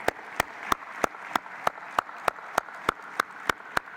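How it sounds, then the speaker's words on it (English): Closing-ceremony audience applause at the GMIS 2019 conference: a steady wash of many hands clapping, with regular sharp louder claps standing out about every third of a second, moderately loud, with no talk. "Let's give Nadir a round of applause to say thank you and well done."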